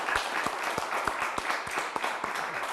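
Audience applause at a televised quiz show, a modest group clapping with distinct individual claps audible, fairly steady and close.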